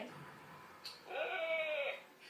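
A sheep in the Skylanders video game bleats once in a drawn-out, wavering cry, preceded by a short click, heard clearly at moderate volume.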